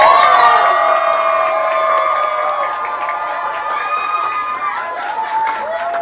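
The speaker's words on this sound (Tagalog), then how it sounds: "Isang malakas na palakpak at sigawan!" Wedding guests at a reception give loud cheering and shouting with clapping, a dense, sustained crowd roar with raised voices that stays close and strong throughout.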